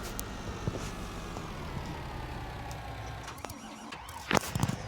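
Car driving in Farming Simulator 20, a steady engine drone with road noise that holds throughout, ending in a few brief louder bumps and clunks.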